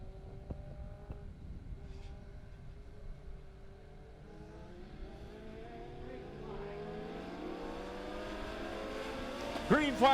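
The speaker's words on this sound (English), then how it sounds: "Green flag in the air, we're racing." Pack of Legend race cars at Springfield Raceway accelerating away at the green flag, engine tones rising and layering as they build speed, growing louder toward the end with faint crowd ambience.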